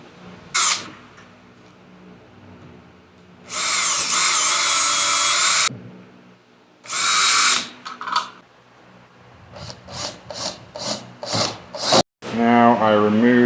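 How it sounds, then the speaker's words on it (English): A power drill whirs in several bursts, short and long, with high grinding as the bit bores through a metal door hinge, followed by a brief rattling buzz. "we're gonna have to drill a whole new hole through this hinge"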